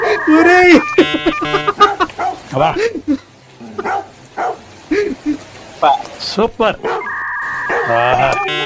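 Dogs bark in the background of a funny meme: repeated short, loud barks and yips mixed in with overlapping talking voices.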